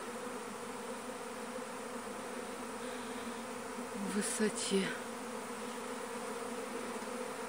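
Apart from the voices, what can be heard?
honeybees swarming out of a hive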